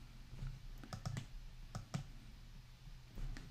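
Computer mouse clicks at a desk, a few quick sharp clicks in short clusters, close and fairly quiet over a low steady hum.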